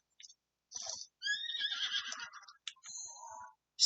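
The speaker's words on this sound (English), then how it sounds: "Just riding my horse." A horse in the game Zelda Breath of the Wild neighs in a clear, loud, whinnying call lasting a few seconds, with short separate bursts before and after, alone with no talking.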